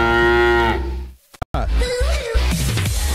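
A cow moos in a long, loud, close bellow as part of a country radio station jingle, followed by a brief station sweep and a voice speaking over the audio.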